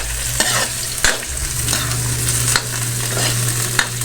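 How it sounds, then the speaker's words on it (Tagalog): Field snails stir-fried with chili and ginger in a wok (kawali), a steady loud sizzle broken by several scraping stirs of the spatula over about four seconds, with no talking. "Lagay na po natin sa kawali. Sabay na rin natin itong sili."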